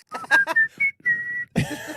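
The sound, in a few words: whistled McDonald's theme tune imitation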